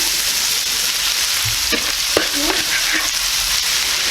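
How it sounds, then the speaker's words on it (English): Eggplant and onions sautéing in a pan, a loud, dense, continuous hiss with a few brief spatula knocks near the middle. "So this is going to saute for about 3 to 5 minutes until the onions get a little translucent"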